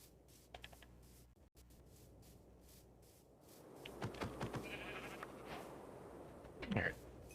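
A sheep bleats in the block-building game Minecraft Bedrock during a survival session: a short, faint bleat near the end over quiet background sounds, with a soft voice in the clip.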